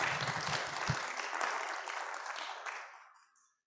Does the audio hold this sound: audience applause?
yes